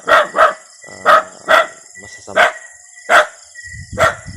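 A dog barks loudly and repeatedly in sharp bursts, close by, with a brief spoken word slipped between barks.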